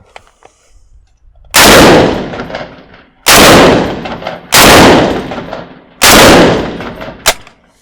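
A Swiss military assault rifle fires four loud, sharp shots a second or so apart, each with a long echoing tail, then a smaller fifth report near the end. No one speaks.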